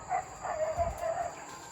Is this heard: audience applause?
no